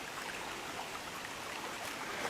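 Steady rushing water with a bright, hissy texture, a small hilltop stream flowing nearby in the Forêt de Quénécan, Morbihan, continuous and even throughout with no voices.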